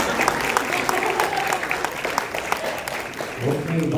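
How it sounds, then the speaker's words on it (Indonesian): Audience applause at a press event for a singer, a steady crowd clapping over about four seconds that thins toward the end as a low voice begins speaking. "Boleh tepuk tangan lagi."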